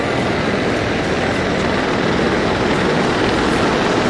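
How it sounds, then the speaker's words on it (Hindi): Mi-35 gunship helicopters fly in formation at a Pakistan Day air show, producing a loud, steady, broadband rotor and engine roar that fills the whole clip without any talk. "गनशिप हेलीकॉप्टर्स की फॉर्मेशन।"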